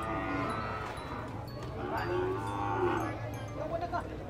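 Cattle and water buffalo mooing at a livestock market in Bacong, several long lowing calls overlapping over a noisy crowd background, with faint talk.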